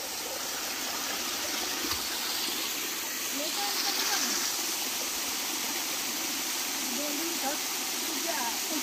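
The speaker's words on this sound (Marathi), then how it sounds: "आम्ही पोचलेलो आहेत आमच्या झिऱ्यावर म्हणजेच आमचा हा धबधबा बघू शकता" A small village waterfall and stream at a spot used for washing clothes, low on water after little rain, give a steady, broad rushing hiss that continues throughout at moderate distance.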